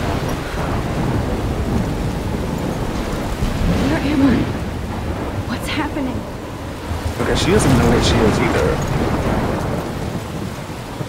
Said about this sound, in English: She got lost in the storm somehow?